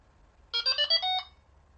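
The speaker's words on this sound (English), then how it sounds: "hold the buttons down and wait for 2 pips and that, or 2 beeps" A Delkim Txi-D fishing bite alarm gives a quick, bright burst of two electronic beeps entering setup mode, close and clear against near silence.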